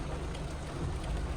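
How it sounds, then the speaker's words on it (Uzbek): Rain pours down harder, a dense, even hiss of drops on surfaces with a low rumbling undertone, continuous and close. "Yomg'ir tezlashib ketdi."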